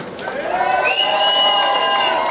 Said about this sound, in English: Let's give another round of applause to Good Kids, Mad City.